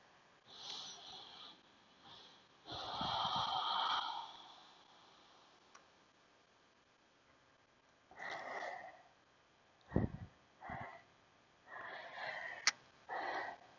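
Slow, deep breaths in a yoga pose, drawn in and let out audibly through the nose with long airy inhales and exhales separated by quiet pauses, close and unaccompanied by speech.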